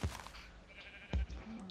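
Sheep bleat in the video game Minecraft, two short clear bleats about a second apart at close range, with no speech over them.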